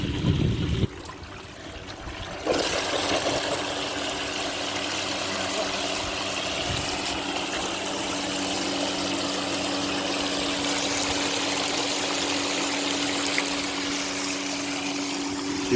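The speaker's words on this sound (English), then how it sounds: "We've got two pumps running." Two pumps circulating water in a gold recirculating setup: a sharp shift at start, then a steady, loud whooshing hum of running pumps and churning water that continues unbroken.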